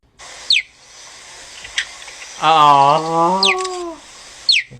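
A cheetah gives a high, birdlike chirp and a wavering yelp, interspersed with sharp short squeaks against a quiet outdoor hiss.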